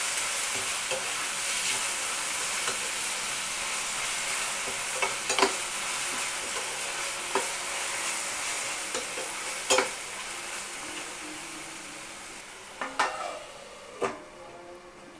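Vegetables with salt fried and stirred in a pan: a soft steady sizzle with occasional scrapes and taps of a spoon, a few sharper knocks near the end, no talking.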